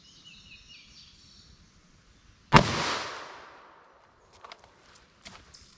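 A single sharp, loud .38 Special +P gunshot from a 4-inch barrel fired into ballistic gel, its crack decaying over a second against quiet outdoor background with faint scuffs afterward.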